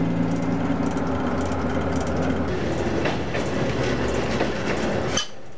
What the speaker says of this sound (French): Changement de vitesse.